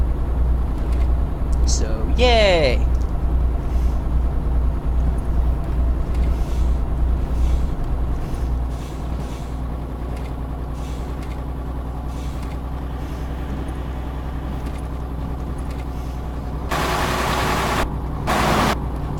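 A heavy truck engine in Euro Truck Simulator 2, fitted with a modded engine sound, drones low and steady throughout, with a brief air-brake hiss early on and a short burst of noise near the end while a player talks over it.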